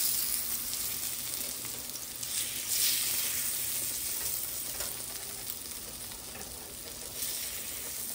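Beef and rice meatballs simmer covered in a pan of mushroom sauce, giving a steady, soft sizzling bubble with faint crackles throughout, close and even, with no voices.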